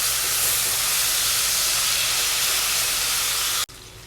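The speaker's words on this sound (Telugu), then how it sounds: "గార్లిక్ పేస్ట్ వేసిన తర్వాత పచ్చివాసన పోయేంత వరకు ఫ్రై చేసుకోవాలండి" Garlic paste frying in a pan hisses and sizzles loudly and steadily, a dense spray of crackle that holds nearly to the end before cutting off abruptly.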